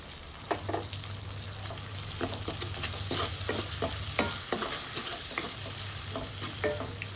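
Chopped tomatoes fry in hot oil in a pan for Bombay rava upma, a steady close sizzle with intermittent scraping stirs and a low hum underneath.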